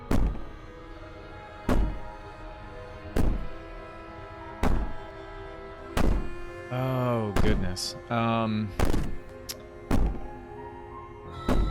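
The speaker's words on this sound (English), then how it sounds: "Maybe the banging and wailing will stop if you just don't pay attention to it." Heavy, hollow thuds of someone banging on a wall in the game Slay the Princess, about eight loud blows spaced a second or two apart, with wailing cries rising between later blows and a brief spoken exclamation.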